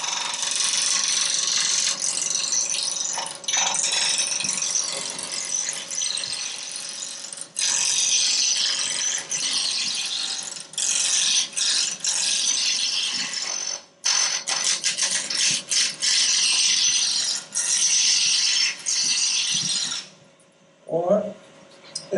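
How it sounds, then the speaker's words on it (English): Wood lathe turning a sphere with a roughing gouge, a loud continuous rough scraping and chattering rattle with short breaks as the tool lifts, close up and alone. "take this down to round. You can do that with a roughing gouge."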